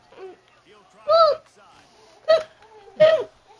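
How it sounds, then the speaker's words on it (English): A child hiccups three times in quick, sharp bursts, close and clear, with a little soft laughter and breathing between them. "You got the hiccups now?"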